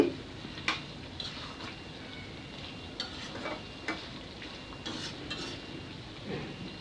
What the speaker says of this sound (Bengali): তো অফ ক্যামেরাতে আমি আবার ঢেকে দিয়েছিলাম, আবার নেড়ে চেড়ে দিচ্ছি